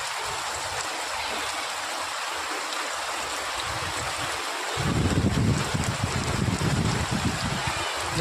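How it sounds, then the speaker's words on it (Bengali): Heavy rain pouring down outdoors near a jackfruit tree, a dense continuous roar that swells louder midway, with a voice briefly audible over it. "খুব জোরে বৃষ্টি হচ্ছে"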